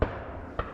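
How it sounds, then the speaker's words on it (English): Two faint, dull gunshots sound far off, spaced about half a second apart, over a quiet outdoor background beside a disused waterway in freezing weather. "Gunshots."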